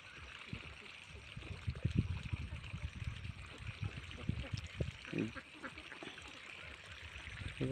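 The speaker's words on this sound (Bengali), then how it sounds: "হাঁসগুলো দেখেন অনেক সুন্দরভাবে খাচ্ছে।" Domestic ducks feed in an open wetland, with repeated quacks and scattered splashy dabbling sounds that rise and fall over a steady background murmur.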